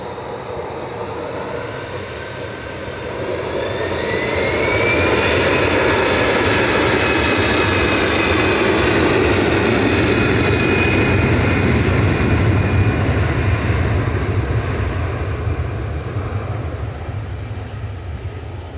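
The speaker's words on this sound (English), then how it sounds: "Loud there from the EasyJet." An EasyJet Airbus A320-200 on the runway at Manchester Airport builds from a moderate hum into a loud, sustained jet engine roar with rising whine tones, easing slightly near the end.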